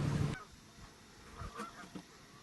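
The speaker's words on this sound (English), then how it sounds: "There's groups of geese." Geese honk in the distance over a reservoir, a few faint, scattered calls after a brief louder rumble at the start.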